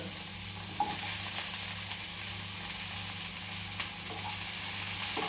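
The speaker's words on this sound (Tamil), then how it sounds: "½ minute சாட்டே பண்ணதுக்கப்புறம் இந்த வெஜிடபிள்ஸ்லாம் போட்டு" Vegetables sauté in a pan over a high flame for a vegetarian millet ramen, making a continuous close sizzle and hiss with occasional faint stirring clicks, steady and fairly loud, with no talking.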